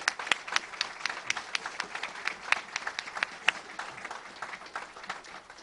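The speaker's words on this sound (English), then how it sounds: "Please give him a round of applause." An audience applauds at a University of Cincinnati announcement of a new athletics director: many hands clap in a crisp, crackling patter with scattered sharper claps, fading slightly toward the end.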